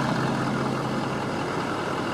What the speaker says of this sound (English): This vehicle started right up, it's currently running.